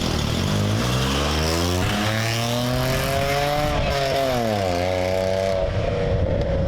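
Toyota Aygo fitted with the cheapest available aftermarket exhaust, its small engine buzzing and rising in pitch as the car accelerates past, loud and close, then easing off.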